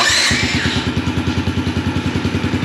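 A small Yamaha motocross motorcycle engine starts up after a brief hiss, then settles into a steady, rapid putter close to the microphone.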